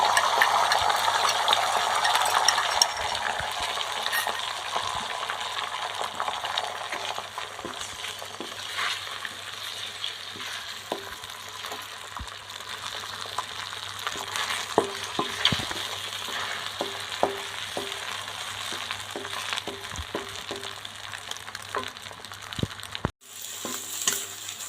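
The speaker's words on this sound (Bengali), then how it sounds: "আমি অল্প তেলে আগের থেকে ফাটিয়ে রাখা ডিম দুটো ভেজে নিচ্ছি এইভাবে" Two pre-cracked eggs fry in a little oil, with a steady, close sizzle running throughout and scattered light clinks and scrapes of a utensil against the pan.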